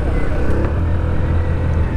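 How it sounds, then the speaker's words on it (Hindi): A Hero Destiny 125 Xtec 125 cc scooter engine pulls under acceleration with a steady low thrumming drone and slight vibration, loud and continuous, with faint wind or road noise. "इंजन में ना एक ग्रंट है, एक थंप है, फील हो रहा है वो।"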